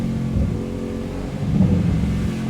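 Engine of a 2026 Mercedes-AMG Mythos PureSpeed, an all-wheel-drive V8, revving with a deep, steady roar from inside the car that swells louder in the second half, with no talk over it.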